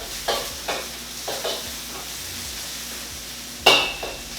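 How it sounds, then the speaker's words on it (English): Onion or shallots, garlic and Thai chilies stir-fried in a pan for pineapple fried rice give a steady, close sizzle with a handful of sharp utensil scrapes and knocks, one louder clatter near the end, and no talking. "your onion or shallots, and your Thai chilies. Stir fry that up."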